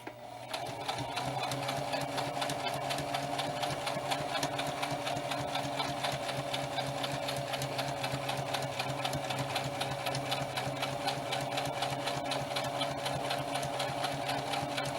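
A sewing machine stitching around a spirit doll runs at a steady, rapid, unbroken rhythm for the whole stretch, its mechanical whir and needle clatter close and constant.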